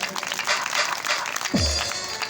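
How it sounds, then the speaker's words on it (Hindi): Loud applause from a crowd at a Shri Ram Katha religious storytelling gathering, a dense sustained clatter of clapping filling the space without letup. "जोरदार ताली।"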